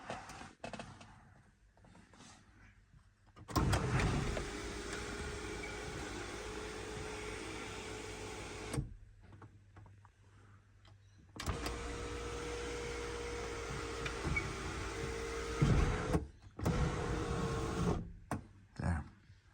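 Sunroof motor on a Mercedes ML W164 running after a button replacement, a quiet electric whirring drone in two separate runs of several seconds each, with soft clicks between them.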